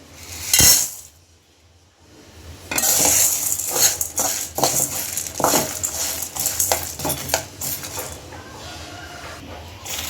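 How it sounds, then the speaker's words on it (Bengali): Nutmeg and mace are dry roasted in a pan over low heat, starting with one sharp metallic clang, then a run of scraping stirring strokes and light rattling over a soft sizzle. "হালকা আঁচে ভেজে নিব।"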